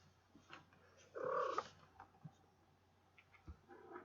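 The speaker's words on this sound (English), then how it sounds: "This is my cat Oreo, Mustachio, Captain Oreo, mustache." A house cat makes a single short, fairly close meow-like cry in the middle, set among faint quiet rustles and small clicks in a calm room.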